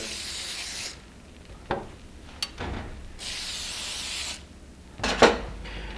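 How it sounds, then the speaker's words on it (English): Several short hissing sprays of avocado oil onto food on a 300-degree griddle, each a close, breathy burst lasting about a second, separated by quieter gaps, with no talking. "now we're gonna just spray these with some avocado oil"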